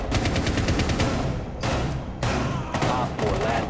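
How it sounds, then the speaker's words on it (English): Rainbow Six Siege gunfire shot through a wall during a Border hostage team deathmatch: dense bursts of automatic shots that stop and restart in several loud volleys, with a voice speaking over the firing. "Shoot through the wall!"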